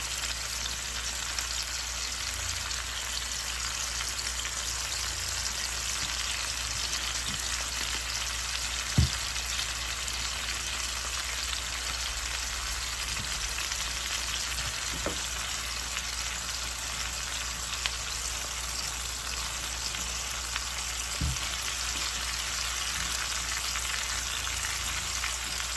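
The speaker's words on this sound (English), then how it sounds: "Mix it in. You know, give it a nice little stir." Vegetables seasoned with garlic fry in a pan, giving a steady loud hiss of sizzling throughout, with a few faint isolated clicks as they are stirred.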